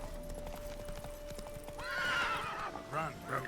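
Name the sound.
horse Roach neighing and galloping in Witcher 3 video game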